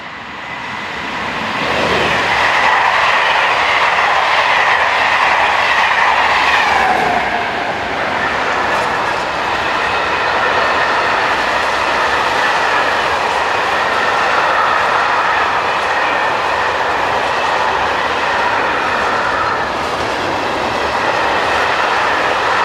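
A westbound freight train passes with locomotive 27050 in the Alps around Chambéry. It is a loud, close, steady rolling rumble with wheel clatter that lasts about twenty seconds, with no talking.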